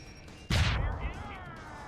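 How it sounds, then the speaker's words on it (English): Laser turrets opening fire in Deus Ex: Human Revolution, one sharp loud blast with a crashing burst that rings and decays for about a second over a steady game background. "Weird laser turrets."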